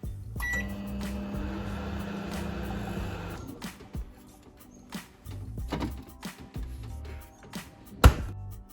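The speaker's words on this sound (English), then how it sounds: "Let's microwave this Negroni." A microwave oven hums steadily for a few seconds while heating a Negroni cocktail, then stops, followed by scattered clicks, taps and a sharp beep-like knock.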